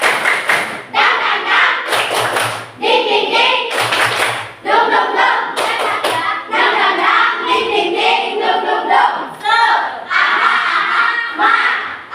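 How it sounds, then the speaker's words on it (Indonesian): A classroom of children performs the tepuk semangat clapping chant, loud rhythmic hand claps and thumps mixed with energetic shouted chanting voices, continuing in sharp bursts throughout. "Coba ya, kita tepuk semangat dan dingdung dulu."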